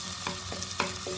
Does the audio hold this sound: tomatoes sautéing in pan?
yes